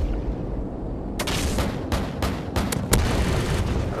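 Heavy cannon fire from an AC-130 gunship in Call of Duty Modern Warfare 2 on the Favela map, a burst of sharp booming shots after a quiet rumbling start, repeating irregularly over a constant low background.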